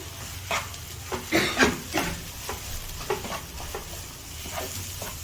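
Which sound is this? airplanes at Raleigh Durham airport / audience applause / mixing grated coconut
mixing grated coconut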